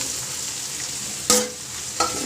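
Bitter gourd sautés in oil with onions, a steady close sizzle broken by two sharp spatula scrapes against the pan, with no voices.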